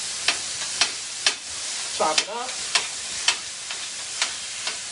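Steady frying hiss of ground beef in a hot pan, with regular scraping taps of a utensil chopping and stirring; a voice speaks briefly.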